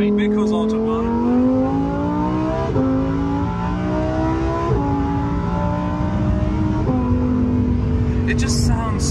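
Lamborghini Huracan STO accelerates hard on the Autobahn, its high engine note climbing through repeated gear changes, loud and close, with people talking over it inside the car.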